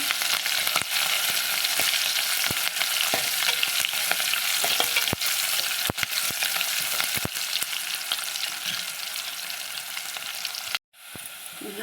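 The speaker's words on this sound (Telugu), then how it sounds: "ఉల్లిపాయలు బాగా ఎర్రని కాలుతుంది" Onions frying to a deep red-brown in a pan for a tamarind-leaf dal rasam, a steady loud sizzle with scattered sharp crackles and stirring clicks, then a sudden brief dropout near the end before the sizzle returns.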